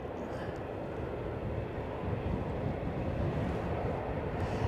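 A Lufthansa aircraft at Edinburgh airport gives a steady, fairly loud jet engine roar that fills the whole stretch without a break.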